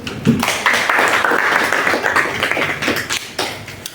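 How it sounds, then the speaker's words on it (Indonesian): Applause from students in a high school classroom during a group counselling session, a burst of close, uneven hand claps with separate sharp taps that rise and fall over a few seconds, with no talk. "Tepuk tangan dulu."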